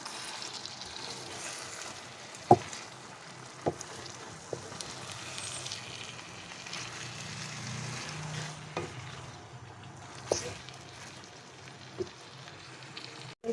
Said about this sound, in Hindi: इसको हम मसाले में अच्छी तरह मिक्स करके इसको अच्छी तरह फ्राई कर लेंगे